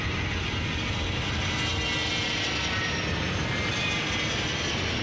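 Several jet aircraft of an air show display team take off together, a continuous broad roar of engines held steady and loud throughout, with no voices.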